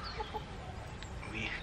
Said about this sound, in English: we're in the chicken coop doing a daily spot clean and also collecting the eggs